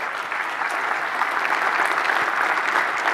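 Steady, dense applause from a large keynote audience at a Linux Foundation open-source conference, many hands clapping together at an even level throughout, heard alone with no talking.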